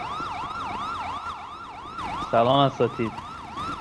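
Ambulance siren in the GTA role-play video game, a continuous wailing rise-and-fall cycle repeating steadily throughout, with a short burst of a second, harsher tone partway through and a brief spoken greeting over it.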